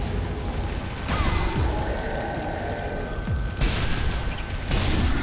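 Grenade explosion in the Zombie Army video game, heard as a loud low boom amid continuous game noise, followed by further bursts of rumbling impact later in the clip, with no talking.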